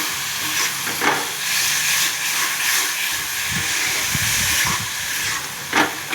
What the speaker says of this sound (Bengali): এবার ঝিঙেটা দিয়ে দেবো।